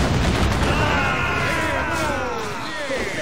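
Broadside cannon fire from sailing ships in Assassin's Creed 4 Black Flag, heavy booms rolling into a continuous battle roar, with voices calling out over the din.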